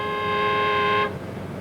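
A single steady, loud car horn blast held for about a second, then cut off, leaving quiet road ambience; a hoot aimed at an old Morris Minor on a motorway.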